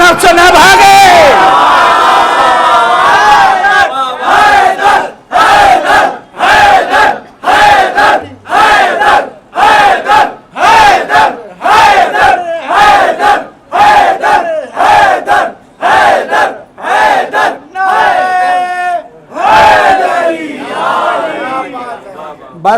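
Crowd at a Muharram majlis shouting religious slogans in unison, a long run of loud, rhythmic collective bursts separated by brief pauses, with a voice leading between chants.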